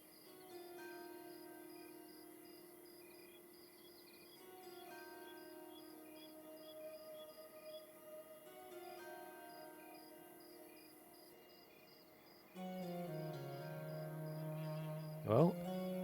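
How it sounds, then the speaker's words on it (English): Crickets chirp steadily as ambient background in the online fantasy game Monsters & Memories, a faint, even trill with repeating tonal layers before a louder burst of game sound near the end. "I hear crickets."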